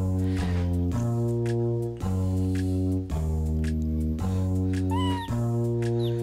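Cartoonish cat meows in the video game Ripened Tingle's Balloon Trip of Love come as evenly spaced, pitched tones about once a second, woven into a bright, rhythmic game melody with a short chirp near the end.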